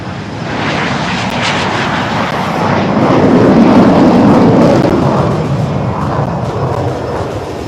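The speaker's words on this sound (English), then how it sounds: "The first 3 set, ladies and gentlemen, taking off right in front of you." Jets of a nine-aircraft military display team roar loudly on takeoff at the Aero India 2023 air show in Bengaluru, a sustained, swelling engine noise that peaks midway and then slowly eases off.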